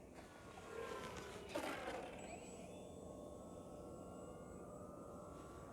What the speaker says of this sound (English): This plane is just awesome flying.